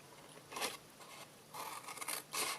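Scissors trim paper for a box and tag, with a few short crisp snips and sliding cuts, close and fairly quiet, with no talking.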